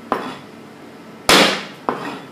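Garlic cloves are crushed with sharp blows in a home kitchen. Three distinct knocks sound close by, and the middle one is the loudest, with a brief ringing decay.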